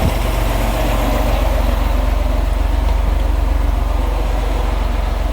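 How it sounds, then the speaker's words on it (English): A Rampy 80 horsepower engine runs steadily and loud up close, giving a continuous low, throbbing idle with a fast even pulse and no pauses. "Got me a running Rampy motor right there."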